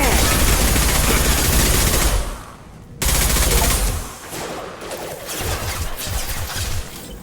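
Heavy, sustained weapon fire in the Mass Effect 2 Legendary Edition space combat game, loud continuous bursts that break off briefly, then resume and trail into scattered shots, with some voices in the mix.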